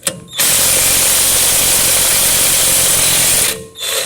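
Cordless impact wrench running in one sustained burst of about three seconds, a loud close whirring buzz that starts and stops abruptly, with a brief spin-up at the end.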